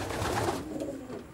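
Racing pigeons, hens in a loft, give soft cooing calls, fairly close and overlapping, fading slightly toward the end.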